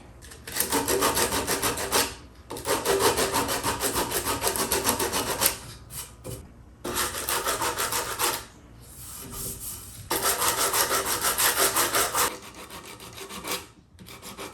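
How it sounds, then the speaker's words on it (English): A sanding block rasps back and forth over a painted wooden chair leg being repaired with dowels, in long close bursts of rough scratchy strokes separated by short pauses. "If I use a sanding block, then I'm just kind of tangential to the leg, and I can just get the raised bits off."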